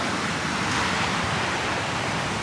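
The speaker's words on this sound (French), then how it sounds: "On a le droit aux vagues et à un décor juste magnifique." Ocean waves at a beach in Amed, Bali, roll in as a steady, broadband wash of surf, continuous and fairly loud throughout with no voices.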